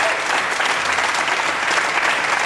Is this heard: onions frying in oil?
no